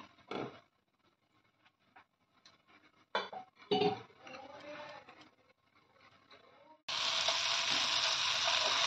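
Spices fry in a pan for a Bengali fish curry. A few utensil clinks and scrapes come first, then a loud, continuous sizzle starts suddenly and carries on steadily.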